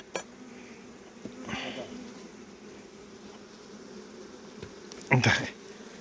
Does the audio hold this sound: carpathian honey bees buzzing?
yes